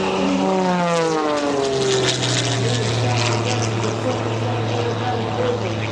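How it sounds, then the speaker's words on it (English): An ultra high-performance NXS aerobatic propeller aircraft flies at the 2024 Westmoreland County Airshow, its engine a loud, steady, close drone whose pitch slides downward as it passes, with a faint voice underneath. "currently flying the ultra high-performance NXS aircraft"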